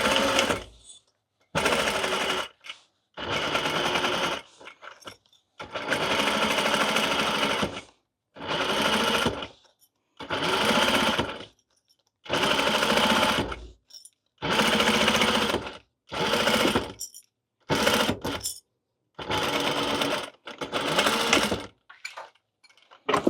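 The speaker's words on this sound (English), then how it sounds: "then we're going to stitch across this, and you are going to make sure you back stitch at the start and stop" Sewing machine stitching across a foam witch hat with cat ears, running in repeated bursts of a second or two with short pauses between them, close and fairly loud, with no talking.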